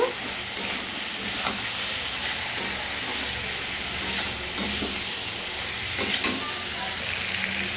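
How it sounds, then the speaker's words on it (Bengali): Vegetables with turmeric powder frying in a pan for ridge gourd and potato curry, a steady broadband sizzle with repeated scraping stirs at irregular intervals, close and moderately loud, no voices. "একটু ভাজা ভাজা হচ্ছে, দিয়ে দেবো পরিমাণ মতন হলুদ গুঁড়ো, দিয়ে মিশিয়ে নেব"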